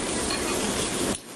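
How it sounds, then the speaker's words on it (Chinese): Marinated pork slices about 20 cm long sizzle loudly over the fire of a grill, a dense, steady hiss that stops abruptly after about a second. "烤肉架上火里进火里出，烤得滋滋作响"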